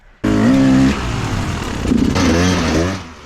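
A woods racing dirt bike engine starts abruptly and revs hard, rising and falling in pitch over about three seconds, loud and close, with no talking.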